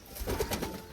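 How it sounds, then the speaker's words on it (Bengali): A pair of pigeons kept in a cage gives a brief, soft coo, faint and close, with nothing else around it. "এই খাঁচাতে আছে এক জোড়া পায়রা"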